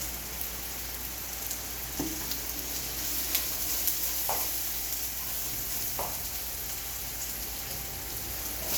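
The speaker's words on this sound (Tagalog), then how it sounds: "Igisa lang natin siya, guys." Steady, close sizzling comes from string beans sautéing in a hot pan, a continuous frying hiss with a few faint clicks and stirring taps.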